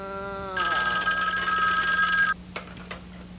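A 1970s telephone rings with a bright, sustained electric bell after a number is dialed, preceded by a falling tone and followed by a few faint clicks.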